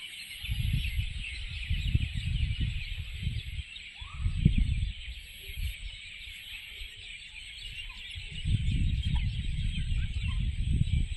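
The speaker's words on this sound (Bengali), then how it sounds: "এত পাখিদের কলাহল শুনতে পাচ্ছ কি তোমরা" Birds fill trees beside water with a continuous high chorus of calls, while lower, louder calls come in bursts, some close, against an otherwise quiet outdoor setting.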